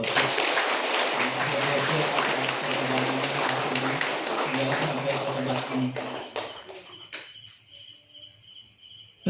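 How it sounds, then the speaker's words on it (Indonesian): A Catholic Mass congregation gives the visiting bishop a dense, loud round of applause that holds steady, then breaks into scattered claps and dies away near the end. "Kita beri tepuk tangan Bapak Uskup."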